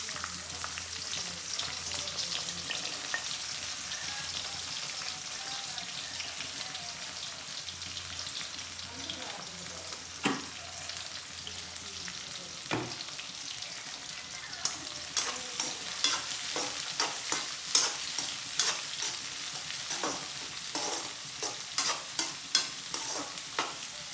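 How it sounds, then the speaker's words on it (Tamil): Onions fry in hot boiling coconut oil with a constant hissing sizzle that grows into denser popping and crackling later on, punctuated by a few sharp stirring knocks, close and without speech. "எண்ணெய் கொதிச்சுட்டு நாங்கள் வெங்காயத்தை மாதிரி போடுவோம்"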